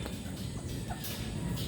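Native chickens crossed with Texas gamefowl cluck and call faintly amid a murmuring background on a farm, brief and scattered.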